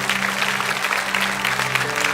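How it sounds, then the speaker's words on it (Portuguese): A church congregation applauds during a Portuguese-language sermon, with a thick, continuous burst of clapping from many people over a faint sustained musical drone. "Aplaude mais forte que é para Deus."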